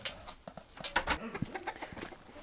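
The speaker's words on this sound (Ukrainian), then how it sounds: "Це курочка." A hen and rooster clucking close by at a rural home, several short irregular clucks and calls over a couple of seconds.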